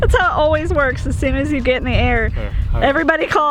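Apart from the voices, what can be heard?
No everyday noise stands out behind the speech.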